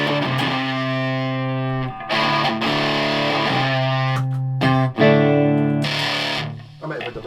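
A 1961/62 Hofner Colourama electric guitar plays through a Rat distortion pedal, giving sustained, heavily distorted chords with short gaps between them, loud and close.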